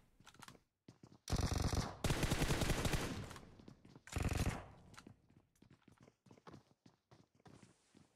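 A video game weapon fires in burst mode, with loud rapid bursts of shots separated by gaps and scattered softer clicks and thumps in between.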